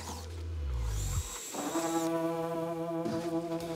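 A power drill spins up with a low rising whir, then settles into a steady humming drone with slight wobbles as it drills bolt holes through a Land Rover Defender body.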